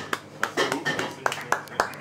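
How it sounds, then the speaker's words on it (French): A small group clapping close by, scattered individual hand claps of uneven timing rather than dense applause, with voices talking over them. "On les applaudit bien fort."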